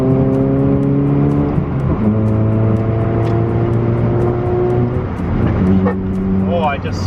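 A Mazda 3 with a specially tuned muffler and no catalytic converter revs loudly and continuously, its raspy exhaust note rising and falling in pitch over several pulls, close and dominant throughout.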